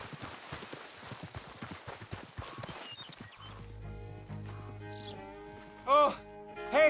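A horse in Red Dead Redemption 2 gallops off, a quick run of hoof clops up close that fades after about three seconds, leaving music and a voice calling out.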